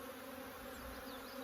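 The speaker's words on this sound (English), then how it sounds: "So we're getting another population of bees in here." Honey bees in a hive during an inspection, heard as a steady, dense buzzing drone that holds evenly close up throughout, with no voices over it.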